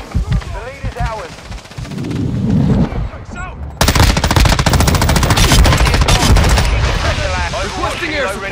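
Rapid automatic gunfire in the video game Call of Duty Modern Warfare 2, with dense bursts and a long sustained stretch of loud shots, mixed with game voice lines and other battle sounds.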